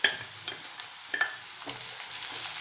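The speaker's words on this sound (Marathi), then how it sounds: "आता त्यामध्ये मीडियम आकाराचा टोमॅटो बारीक चिरून घेतलाय तो घालूया" Chopped tomato going into a pan of softened onion, sizzling steadily with a few sharp spoon-on-pan clicks and stirring scrapes, close and moderately quiet.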